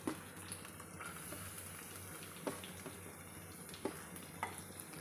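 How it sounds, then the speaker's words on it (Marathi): Finely chopped onion frying in hot oil with fried ginger-garlic paste for a dhaba-style kaju masala, a soft steady sizzle with a few faint clinks and knocks, quiet and close, no talking. "आता आपण याच्यामध्ये बारीक चिरलेला कांदा टाकूया"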